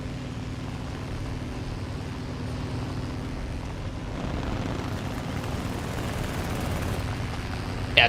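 Steady droning engine of a MiG-3 fighter plane in War Thunder air combat, a continuous low rumble that swells slightly midway and holds without a break.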